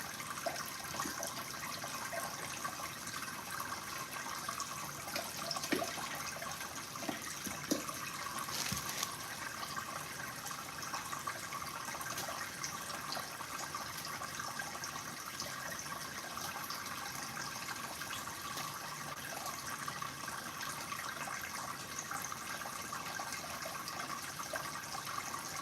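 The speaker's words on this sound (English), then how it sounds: "I got some water boiling" Water churning and bubbling on a stove while potatoes are prepared for homemade potato salad, a steady broadband rush that runs continuously at moderate level with a few brief clatters.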